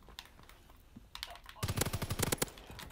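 Gunfire in a WW2 gun-game shooter, a rapid close burst of sharp automatic shots following a few scattered clicks and quieter pops.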